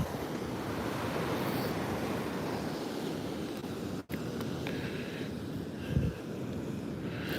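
Wind at Sandy Hook Beach, New Jersey, rushing steadily across the microphone with surf washing underneath, a continuous broadband roar with no talk.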